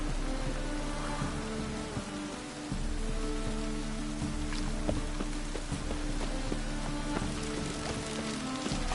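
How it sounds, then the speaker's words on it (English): Steady rain pours down in The Witcher 3: Wild Hunt in a dense, continuous hiss, with low droning tones and scattered clicks underneath throughout. "Rain again."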